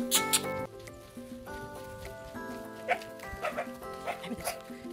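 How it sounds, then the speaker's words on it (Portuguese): Several dogs bark and yip in quick overlapping bursts over a steady tonal background, close and fairly loud. "Vou ver desses cachorros."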